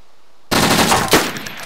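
Automatic gunfire from DayZ Standalone erupts after a half-second of silence: a loud, close, sustained burst of rapid shots with a sharper crack near the end, trailing into echoing reverb.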